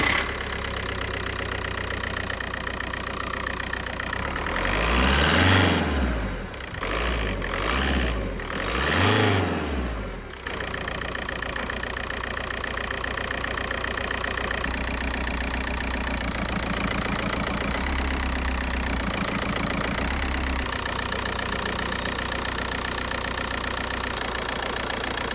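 A Mk4 Volkswagen Golf TDI diesel engine with a broken engine mount idles steadily with a rough, vibrating rumble, briefly surging in a few pulsing revs before settling back to idle.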